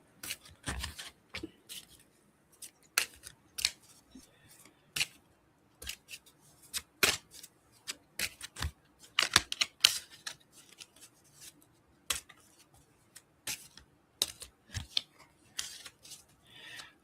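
Tarot cards being shuffled and handled, a string of sharp, dry riffles and flicks, close and fairly quiet, in irregular bursts with pauses, no talking.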